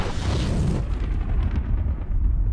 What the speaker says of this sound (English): We got ballistic high-speed shooting propane tanks.